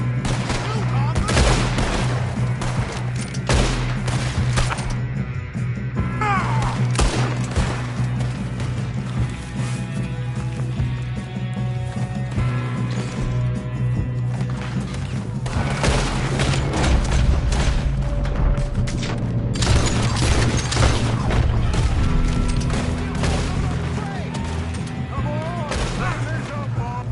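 Rapid gunfire in Red Dead Redemption 2, repeated sharp shots and bursts over a sustained stretch, with game voices talking among the shooting and a low ambient drone beneath.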